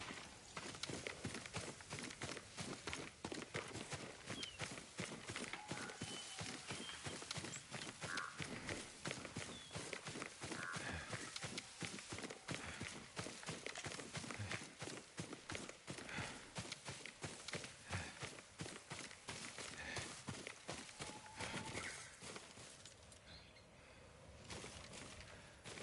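A horse in Ghost of Tsushima gallops away, its hooves beating a rapid, steady clip-clop rhythm over game ambience that continues evenly before easing off near the end.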